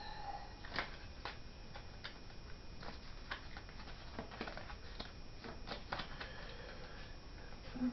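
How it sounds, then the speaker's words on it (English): Quick papery riffling and soft card clicks repeat in short bursts, a Pokemon card deck being shuffled close up with no voices. "they will shuffle the deck"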